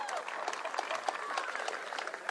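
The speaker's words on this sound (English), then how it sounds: "Give them all a round of applause" A stadium crowd applauds and cheers at a Seahawks 50th season flag raising, continuous clapping with scattered shouts and whistles at moderate distance.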